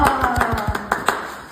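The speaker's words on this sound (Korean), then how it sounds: "박수." A few people clap briefly in a small group, several distinct close handclaps in a quick uneven rhythm that fade out after about a second.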